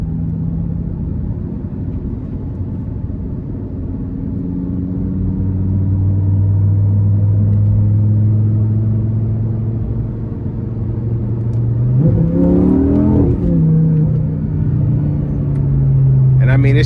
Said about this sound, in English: just the scream you get from the engine bay and the exhaust